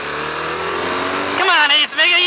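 A BMW R1200GS motorcycle accelerating in second gear, its engine droning steadily and then rising sharply in pitch, with a brief dip before revving up again, close and loud.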